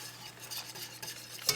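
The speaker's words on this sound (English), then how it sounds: "I'm gonna pour it into the boiling mixture." Keto sweetener poured into a boiling caramel mixture gives a steady bubbling sizzle and stir-like rustle for under two seconds, ending in a sharp hissing burst, with no one speaking.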